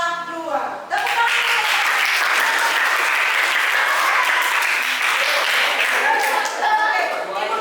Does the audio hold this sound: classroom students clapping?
yes